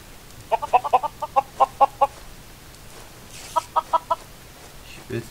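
Several short bursts of Minecraft chicken clucks, a quick run of about eight clucks followed by a pause and then four more, close and distinct over faint background noise.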